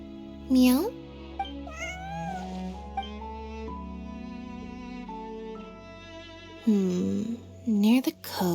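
A cat meows in a Genshin Impact game scene, a few rising and falling calls, one early and a cluster near the end, over soft background music with moments of voiced dialogue.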